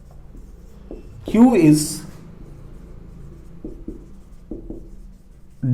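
Chalk or marker scratches out a statement on a classroom board in faint, intermittent strokes while a teacher speaks briefly over them.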